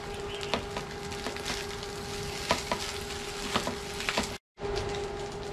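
Rice frying and crackling in a hot pan, a dense steady sizzle with repeated sharp pops and stir scrapes, close and continuous with one brief dropout.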